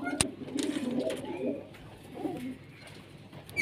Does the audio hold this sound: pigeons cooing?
yes